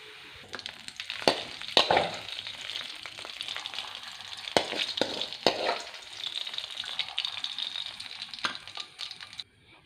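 Small onions frying in ghee for a medicinal rice porridge crackle and sizzle steadily, with brighter pops and a few stirring scrapes standing out close by throughout.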